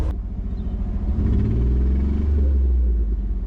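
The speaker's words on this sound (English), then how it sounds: "Come rev the engine," A car engine rumbles loudly and revs up, its low growl rising and holding steady before easing off, with no talking.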